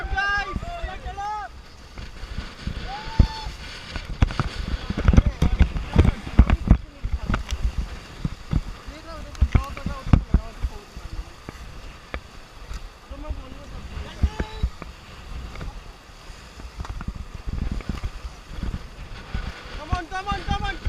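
A river raft on the Ganges at Rishikesh moves through the water with splashing paddle strokes and rushing water, while wind buffets the microphone and people talk and shout throughout.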